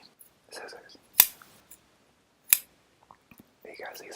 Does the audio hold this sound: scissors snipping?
yes